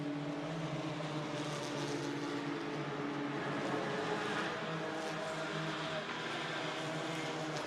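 GT4 race cars battle through turn 1 at Hockenheim during a GT4 European Series race, a continuous layered engine drone from several cars at a moderate distance, without talking.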